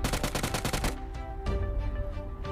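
Rapid automatic gunfire rattles out in a fast burst in a PUBG Mobile match, then a few separate heavy shots ring out over the next second and a half, loud and close.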